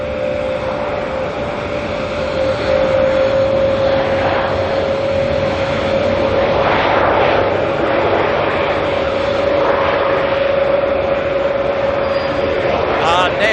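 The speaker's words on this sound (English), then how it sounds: "Go the power of the 777, eh?" Boeing 777 jet engines roar steadily at full power, a loud continuous rumble with a sustained whine running through the whole stretch, heard from an airport viewing spot.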